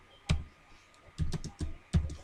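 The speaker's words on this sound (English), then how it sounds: "You're still typing that thing out." Typing on a computer keyboard: a few sharp, separate clacks and short bursts of keystrokes, close and fairly quiet, over a faint background hum.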